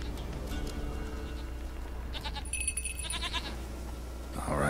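A goat bleats in The Witcher 3 video game, with several short nasal bleats over a steady game ambience, followed by chiming tones and a rising swell near the end.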